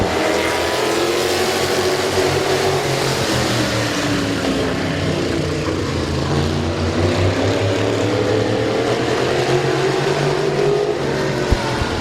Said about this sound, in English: Ready to go green, 8-lap heat race number 1 in the modifieds is green